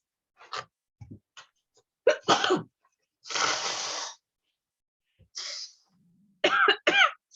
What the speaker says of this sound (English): Kind of blow my nose.